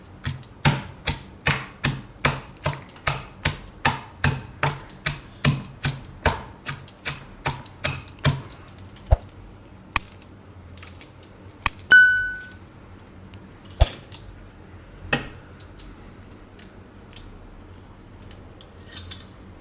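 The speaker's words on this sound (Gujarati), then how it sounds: "આ લસણ તો લસણ એમાં આપણે ભેગું ખાંડી લેવું" Garlic and chillies are pounded for karamda chutney in a steady series of sharp, ringing strikes that later slow to sparse, isolated knocks, close and fairly loud.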